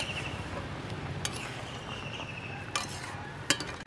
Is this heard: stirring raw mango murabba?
yes